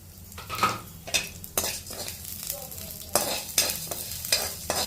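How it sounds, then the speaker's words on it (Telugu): Fenugreek, coriander and mustard seeds roast in hot oil in a pan, heard as a crackling sizzle punctuated by rhythmic scraping strokes of a spoon against the pan, close and fairly loud. "ముందుగా మెంతులు వేసుకోవాలి మెంతులు వేసేటప్పుడు ధనియాలు వేసుకోవాలి ఇప్పుడు ఆవాలు వేసుకోవాలి"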